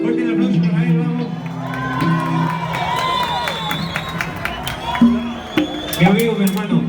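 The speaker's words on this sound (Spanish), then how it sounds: "Fuerte el aplauso para él, vamos." A crowd at a live band performance cheers, whoops and claps, with children shouting among them. Voices call out loudly over the noise, which stays busy and lively throughout.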